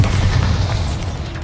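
A Bombarda blasting spell exploding in the Hogwarts Legacy video game, a loud, dense boom that holds as a heavy rumbling roar through the whole short moment, with no talking.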